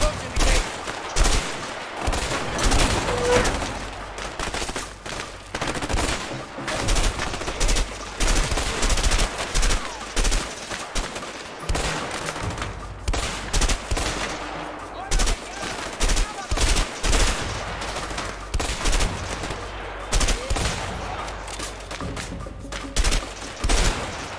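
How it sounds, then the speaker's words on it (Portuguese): Sustained gunfire from a weapon in the co-op video game A Way Out: dense, rapid bursts of shots rattle continuously at high volume, with game sounds mixed in throughout. "essa arma aqui eu tenho que dar um monte de tiro e ela não mata"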